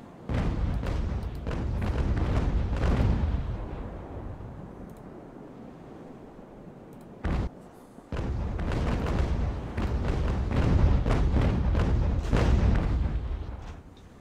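Broadside canister fire from sailing warships in a naval battle in Ultimate Admiral, heard as dense rolling volleys of booming cannon shots with a brief lull midway before another long barrage, no voices.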